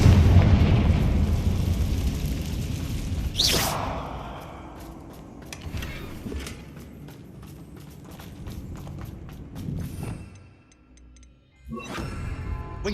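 The Confringo blasting spell goes off in Hogwarts Legacy with a loud, booming burst at the start that rumbles and fades, followed by sharp crackles and later smaller impacts over game ambience.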